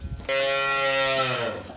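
A cow gives a single long, low moo close by, lasting over a second before trailing off.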